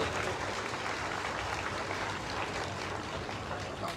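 Steady audience applause at a university MOU signing ceremony for a governor's IT initiative, a dense continuous wash of clapping at even loudness throughout, with no talking over it.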